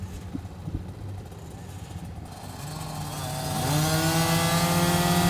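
Dirt bike engines at the start of a motocross race build from a low idle into loud, sustained revving, rising pitch bands swelling together over the last two seconds as the gate drops, with crowd noise underneath.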